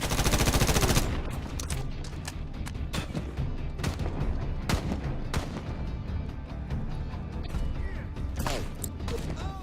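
Sustained rapid automatic gunfire emptying a magazine in the 2010 Medal of Honor video game, loud and dense with repeated bursts and sharp cracks throughout, no talking.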